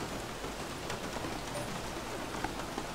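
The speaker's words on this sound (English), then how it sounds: "It's raining." Steady rain from the F1 2016 racing game fills the track in a wet session, a dense, even hiss of falling drops with no voices over it.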